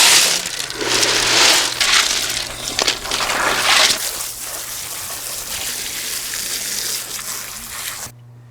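Water gushes and splashes steadily over pond gravel during a spring rinse, a loud, close, continuous rushing with gritty crunching, easing off toward the end and then stopping abruptly.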